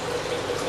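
A household toilet flushing, its tank refilling with a steady rushing, gurgling flow of water; a worn flapper valve that does not seat fully keeps it running. Close and continuous, no voices.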